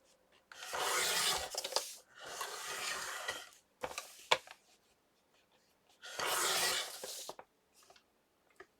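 Paper being folded and creased for a Christmas accordion booklet, with several long, close rasping rubs separated by short pauses and a few sharp crinkles; no one speaks.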